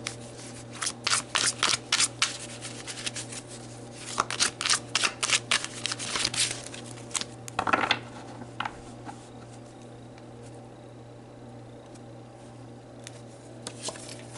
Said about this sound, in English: So let's pull some cards to look month by month.